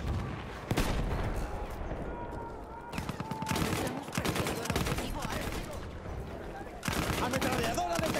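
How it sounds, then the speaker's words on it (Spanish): Automatic machine gun fire in Battlefield 1, dense rapid bursts of loud gunfire with shots and explosions layered over shouted voices throughout. "¡Ametralladora detectada!"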